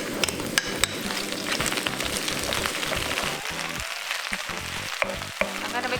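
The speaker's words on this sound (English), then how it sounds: "Add the bok choy in, and we're gonna add a teaspoon of garlic" Bok choy and garlic fry in olive oil over medium-high heat, a dense continuous sizzle with crackling pops and occasional stirring scrapes, close and unaccompanied.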